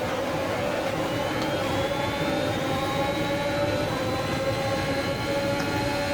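Formula 1 cars in the F1 2021 video game pulling away at the race start at Imola, a steady, loud blend of high engine whines with rising pitches over a constant roar, no talk.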